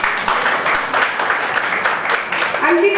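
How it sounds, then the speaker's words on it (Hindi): Audience applause at a city foundation day ceremony in Bikaner, a steady wash of many hands clapping that carries on for the full stretch with some crowd voices mixed in. "ताली बजाई।"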